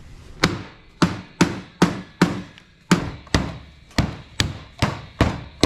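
A hammer drives nails through the nailing flange of a window during installation with exterior insulation, giving about a dozen sharp, evenly spaced close blows over several seconds.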